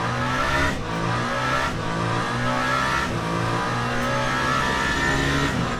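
Hypercar in the Le Mans Ultimate racing game at the 24 Hours of Le Mans screaming past at night, a loud high-revving engine rising through repeated upshifts with brief dips between gears.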